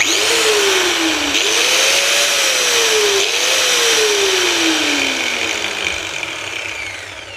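Low-priced electric angle grinder switched on and running, a loud steady high whine that holds throughout with small dips and rises in pitch as the motor spins, no talking over it.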